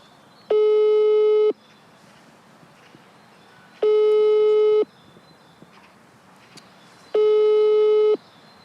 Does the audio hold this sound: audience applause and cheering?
no